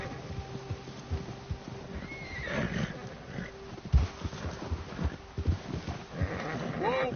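A horse in a PS4 video game whinnies and snorts amid thudding hoofbeats, with irregular bursts of movement and a rising neigh near the end, set against a low ambient game soundscape.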